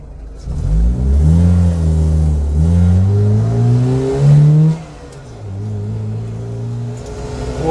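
A Honda EK with a D15 engine revs on a race track, its note climbing and falling in long, loud sweeps before settling to a lower steady drone, close and without talk.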